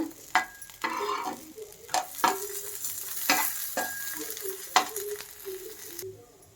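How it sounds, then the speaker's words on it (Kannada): Spine guard fish shallow fries in a pan, a continuous close sizzle broken by sharp clicks and scrapes of a utensil turning and pressing the pieces, with no talking. "ಈ ಸೈಡು ಅಷ್ಟೇ ಒಂದು 10 ನಿಮಿಷ ಫ್ರೈ ಮಾಡ್ಕೋಬೇಕು"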